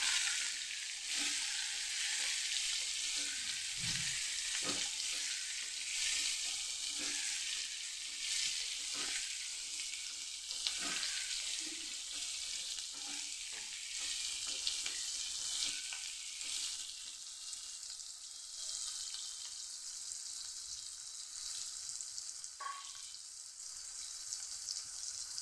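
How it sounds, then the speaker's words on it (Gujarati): Stuffed kantola (spiny gourd) fries in a pan with a steady bright sizzle for a long stretch, while intermittent soft scrapes and clunks come from stirring and turning. Close, fairly quiet and continuous, with no speech. "પછી ઉપર નીચે કર્યા કરશું, હલાવશું આપણે એમ થોડી વાર એમ પાકવા દઈશું"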